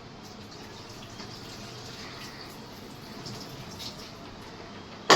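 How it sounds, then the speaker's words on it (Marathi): Water runs steadily while rice and lentils are rinsed in a kitchen, a soft continuous wash with faint drips and splashes, ending in a sharp clatter. "5 पाण्याने तांदूळ धुवायचे"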